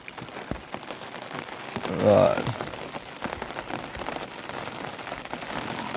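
Rain pours down steadily onto surfaces in a dense, continuous patter, swelling briefly louder near the middle before settling back to an even wash.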